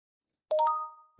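A short chiming notification sound effect: a couple of quick bright tones struck in succession after a moment of silence, then ringing out and decaying, clean and alone.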